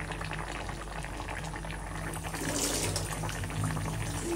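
Four pieces of pangas fish go into a pot of boiling liquid with bottle gourd, heard as steady bubbling and watery churning that grows slightly louder midway.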